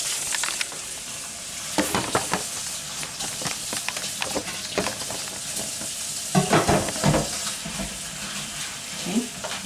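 A cheese-filled wrap sizzling on a cooking machine, steady frying hiss broken by scattered crackles and pops, with kitchen handling noises close by.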